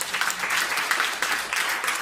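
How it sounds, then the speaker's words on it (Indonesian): Congregation clapping during a church sermon, a short burst of many hands forming an even, crowded patter, moderately loud and without any talking. "Tepuk tangan bagi ini."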